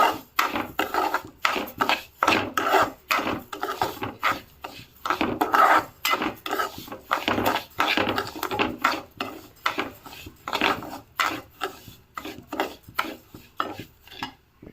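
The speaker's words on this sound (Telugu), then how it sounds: "ఇప్పుడు మనం గోధుమ రవ్వ వేసుకుందాము. కొంచెం దోరగా వేసుకుందాము, ఫ్రై అవ్వాలి." Wheat semolina roasting in hot ghee in a pan while a spoon scrapes and stirs it, producing steady, rhythmic gritty rasping strokes, close and continuous with no talking.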